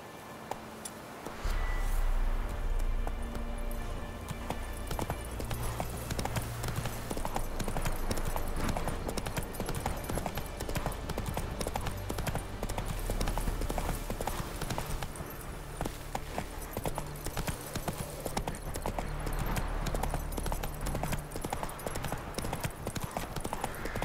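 Roach, the horse in The Witcher 3, gallops in a game scene with rapid, rhythmic hoofbeats that carry on steadily and loudly under ambient game sound.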